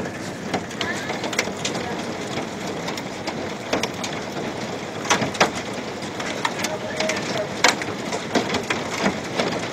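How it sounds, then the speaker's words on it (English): Quarter-size hail striking a window during a storm, sharp irregular clicks and taps scattered over a steady rainy hiss, fairly close. "now we're getting good size, quarter size hail out here"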